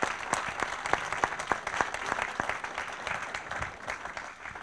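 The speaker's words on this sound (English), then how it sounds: "First of all, a huge round of applause" An audience applauds debate panelists at a live event, a dense, sustained round of clapping with distinct sharp claps, moderately distant and fading slightly toward the end.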